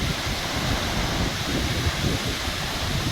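A rushing waterfall cascade pours with a steady, dense roar and hiss that never lets up, close and loud, with no voices.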